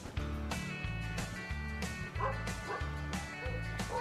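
A dog barks and yips repeatedly near a rural roadside, the barks mixed with a looping low musical backing track, with no clear speech.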